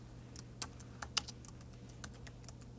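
A few light keystrokes on a computer keyboard as a group name is typed, sparse and close, with a steady low hum underneath and no talking.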